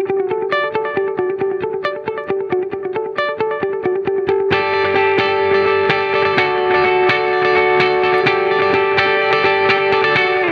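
An electric guitar plays through delay and reverb on a TC Electronic Plethora X5 pedalboard, rhythmic picked notes echoing in a dense repeating wash that swells louder midway, sustained and ambient with no talk.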